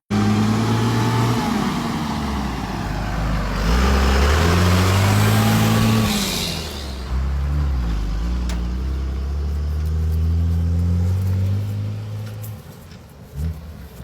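A Ford F800 truck with a 12 valve diesel engine drives past close by, its engine droning and revving through shifting pitches before easing off near the end.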